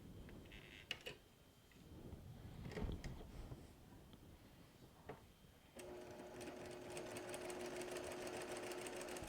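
A sewing machine stitches quilt fabric pieces for a log cabin block, starting abruptly partway through and running as a steady, fast mechanical whir after a few faint knocks and rustles.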